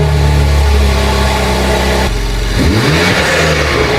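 A BMW M3 Competition engine fitted with a sport air filter idles with a deep rumble, then revs up and settles back, a loud close mechanical roar with a brief rising intake note.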